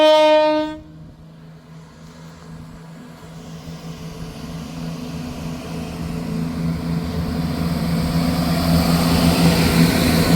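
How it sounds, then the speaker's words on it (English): A Scotrail passenger service from Aberdeen to Glasgow Queen Street leaves Montrose station: a loud horn blast opens, then a low rumble and rising engine drone build steadily as the train pulls away. "Departing out now is the 1511 Scotrail service from"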